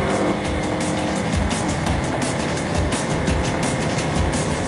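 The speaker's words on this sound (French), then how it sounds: "Soudain, une voiture déboîte juste devant eux." A car drives at over 240 km/h on an expressway during a gendarmerie Renault Megane RS pursuit of a BMW, producing a loud, unbroken roar of engine, tyres and wind rushing past, with no talking.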